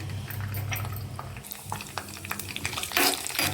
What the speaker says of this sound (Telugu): ఆయిల్ హీట్ ఎక్కిన తర్వాత పోపు దినుసులు వేసుకోవాలి.